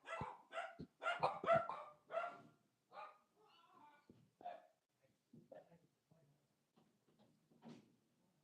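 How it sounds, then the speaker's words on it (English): A dog barks in a quick cluster of sharp, fairly close barks, followed by quieter scattered knocks and soft household noises. "So I hope you guys enjoyed the barking"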